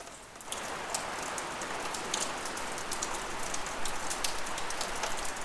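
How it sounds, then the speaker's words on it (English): Torrential rain pours down steadily outdoors, a dense, loud hiss of drops drumming on surfaces with sharp spatters throughout, with no voices. "we had torrential rain"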